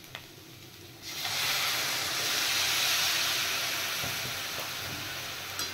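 Water splashes into a hot frying pan, bursting into a loud, sustained hiss and sizzle of steam that stays strong for several seconds, close by, with no talking.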